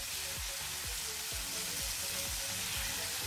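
Guava BBQ chicken fries in a pot with a dense, continuous hiss and crackle of hot oil, close and steady, with soft regular thumps underneath.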